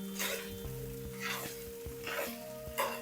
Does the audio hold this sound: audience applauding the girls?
no